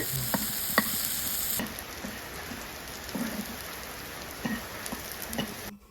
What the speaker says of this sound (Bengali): এবার পেঁয়াজ কুচিগুলোকে লাল করে ভেজে নিতে হবে